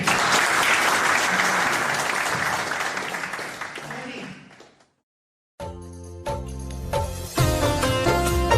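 Loud, dense clapping from an audience during a trip to Goa fills the first four seconds, then fades out into a brief silence before music begins.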